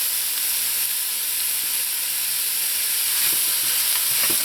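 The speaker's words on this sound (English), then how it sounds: "you're going to let this saute in here for about 5 minutes" Mushrooms and mixed vegetables sauté in a hot pan, giving a loud, steady hiss and sizzle throughout, with a few soft stirring scrapes near the end and no talk.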